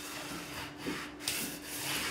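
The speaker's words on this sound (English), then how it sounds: "All I'm doing here is just removing that top bit of glue." Old glue scraped off a guitar fretboard during fret work, a continuous close rough rubbing and scratching with slight swells in intensity, no voices.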